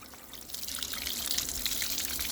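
Pure drinkable spring water runs steadily from a public source in old Sásová, Slovakia, a continuous close trickle and splash with no voices.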